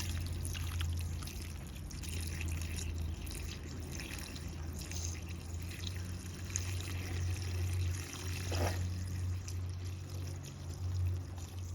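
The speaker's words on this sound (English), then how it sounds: "So we're just pouring it in slowly." Liquid wetting agent poured in slowly outdoors on a hot day, a steady soft trickling stream running the whole time over a low background hum, with no talking.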